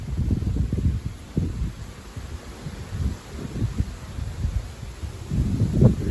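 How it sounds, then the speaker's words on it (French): Moderate thermal-driven wind gusting on a hot July day, rumbling against the microphone in uneven surges with brief lulls, a walnut tree stirring nearby, no voices. "Le vent qui souffle bien grâce au thermique."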